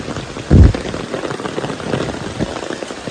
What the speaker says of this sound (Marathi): आज अचानक सकाळचा पाऊस आलेला आहे